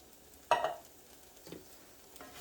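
A pot of chili is stirred, starting with one distinct spoon scrape and clunk, followed by a couple of quieter stirring sounds against a faint background.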